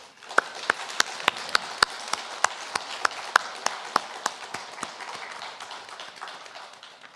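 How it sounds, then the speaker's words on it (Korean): A church congregation claps after a choir's hymn during a Sunday worship service, with sharp, evenly spaced hand claps close by over a soft background of scattered applause that tapers off toward the end. "이 시간 오직 하나님께 영광의 박수를 올려드리겠습니다."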